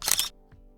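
A camera shutter fires once at high shutter speed, around 1/6400 of a second, with high speed sync flash set up: a single quick, close, crisp click, then near silence.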